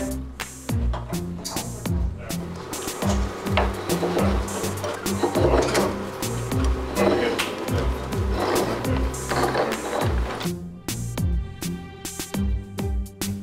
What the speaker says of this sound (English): This is a penny press or a coin elongation machine.